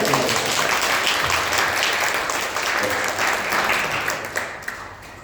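Applause from a church congregation welcoming visiting missionaries at a Sunday service in Bali, a dense, steady clapping that holds for several seconds and then tapers off near the end.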